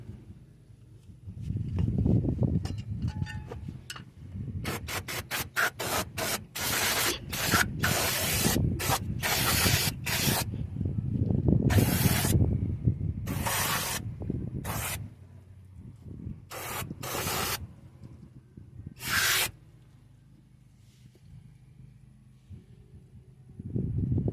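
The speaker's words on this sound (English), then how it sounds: "I'm going to go ahead and blast this down with some brake cleaner." Brake cleaner is sprayed onto the rear brakes of a 2007 Ford F-150 in a series of loud aerosol bursts, some long and some quick short blasts, with workshop rumble beneath.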